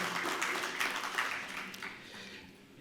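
Audience applause at an industry conference on decarbonisation greets a speaker being introduced, a steady wash of clapping that fades gradually toward the end, with no voices over it.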